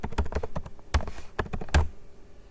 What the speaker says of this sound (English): So now let's type update and see what happens.